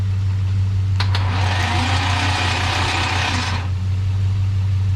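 A 3rd generation Chevrolet Camaro's engine cranks over for about two and a half seconds on its first start in ten years, a steady mechanical starter whir over a constant low hum, then stops without catching.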